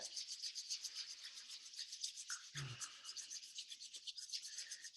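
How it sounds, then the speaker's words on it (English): Palms rub briskly together in a quiet qigong class, a soft steady dry swishing close by that pulses rhythmically, with one small knock partway through. "Rubbing the palms together."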